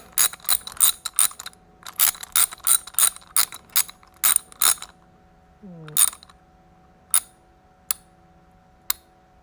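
A ratchet fitted with a Gator Grip socket tightens a bolt during a motorcycle horn install, making loud close bursts of rapid clicking, then a pause and a few slower single clicks.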